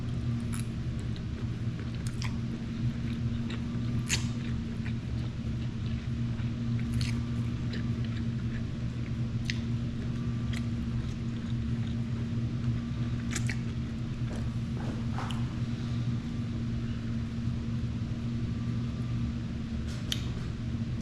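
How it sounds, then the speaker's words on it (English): Someone takes a bite of restaurant food with shrimp and chews steadily close to the microphone, with soft crunches and wet mastication over a constant low fan-like hum. "let's try another bite. Let's actually include some shrimp."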